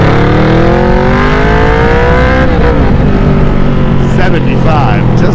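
A Yamaha Vmax cruiser motorcycle accelerates hard through the gears, its loud engine note climbing steadily, dipping at a shift partway through, then climbing again with wind rush close to the rider.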